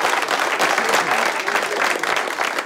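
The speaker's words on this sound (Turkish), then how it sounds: "Bir alkışalım kardeşim ola." An audience claps loudly and continuously, a dense wash of hand claps from a crowd of around fifteen people, close and steady throughout.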